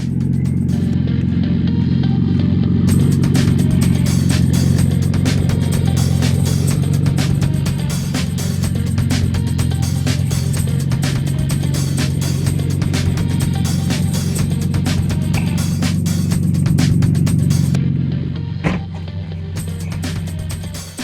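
A Toyota Supra Turbo car is driven, heard from inside as a steady, loud low engine drone with a constant rumbling hum and road noise that hold throughout, easing slightly near the end.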